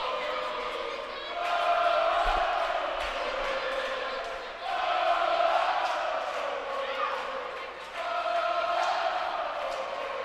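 A student section crowd roars loudly at a high school volleyball match between the Hidden Valley Mustangs and Henley Hornets, sustained shouting and cheering in waves with louder surges, continuous throughout.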